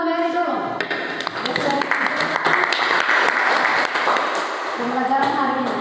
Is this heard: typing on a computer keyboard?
no